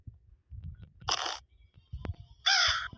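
A crow caws twice, harsh nasal calls about a second apart, fairly close over quiet low rumbling background noise.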